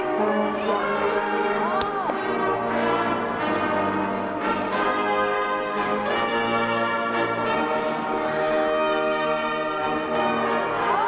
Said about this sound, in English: Do you hear the sleigh bells?